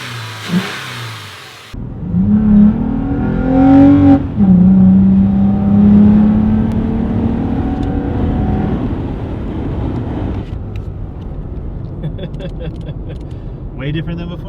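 A 2016-2020 Toyota Tacoma fitted with an S&B cold air intake revs repeatedly, its loud engine and intake roar climbing and settling close by, while people talk over and around it.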